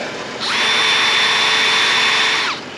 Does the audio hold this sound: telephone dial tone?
no